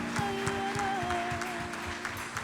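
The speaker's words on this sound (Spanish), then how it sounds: "Dale un aplauso a Él." Church congregation clapping in praise, a steady crowd applause with irregular claps over a sustained tonal hum and faint background voices.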